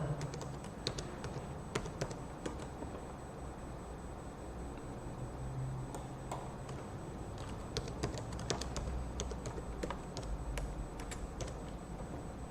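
Root password typed on a computer keyboard during a Zimbra server install, a faint run of quick irregular key clicks over low background hiss, close but quiet, no talking.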